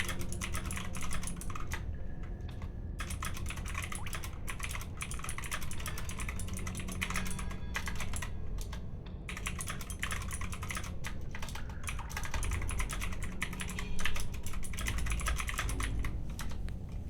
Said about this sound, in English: I hope my keyboard isn't too loud.